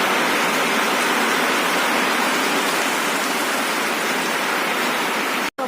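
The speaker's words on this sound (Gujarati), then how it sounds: "ફૂલ વરસાદ ચાલુ થયો છે" A steady, loud downpour of heavy monsoon rain hisses continuously and evenly, close by, with a brief dropout just before the end.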